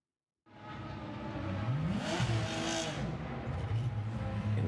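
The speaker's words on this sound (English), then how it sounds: "Ford GT in the pits." A Ford GT race car sits in the pits at a 24-hour endurance race, its engine rising from a low idle into a steady mid-pitched revving drone with a brief swell, loud and close throughout.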